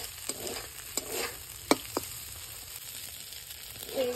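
Fish roe being stirred with chopped green chili in a pan, a few scraping taps of the spatula over a low, steady sizzle, close by with no talking.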